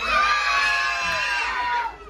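Loud crowd of spectators at a Miss Gay pageant in Masantol, Pampanga, shrieking and cheering in one sustained, dense roar that holds steady for about two seconds before tapering off.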